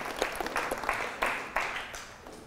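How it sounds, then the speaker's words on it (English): An audience at a sports and ministry talk gives a short round of applause, a loud burst of many hands clapping that fades in uneven waves. "round of applause for these guys"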